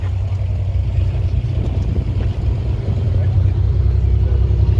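A 1964 Chevrolet Corvair Spider with a three-speed manual idles outdoors on a breezy day in Ann Arbor, Michigan, its low engine rumble droning steadily and fairly loud while people talk nearby.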